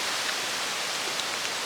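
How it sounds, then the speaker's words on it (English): Rain falling outdoors as a steady, dense broadband hiss, moderately loud and unchanging throughout, with no talk over it. "Oh man, it's raining."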